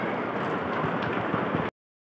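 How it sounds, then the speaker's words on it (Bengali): Rain falls steadily outside a home during the monsoon, a dense, even hiss that holds for under two seconds and then cuts to silence. "আর বাইরে তো বৃষ্টি পড়ছে।"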